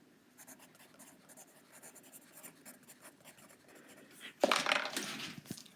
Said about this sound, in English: So that's writing it down.